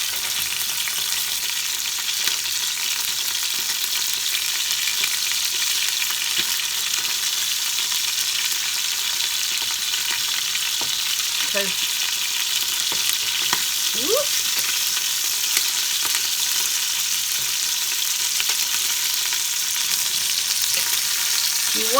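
Leftover chicken pieces browning in a big frying pan, a loud, continuous close sizzle with faint scrapes of stirring now and then.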